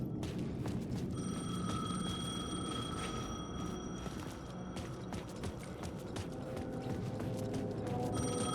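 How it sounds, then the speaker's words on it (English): A payphone rings in the video game Alan Wake 2, a steady electronic ring repeating over a busy noisy background of footsteps and movement, moderately distant and under constant ambient clutter. "payphone was ringing."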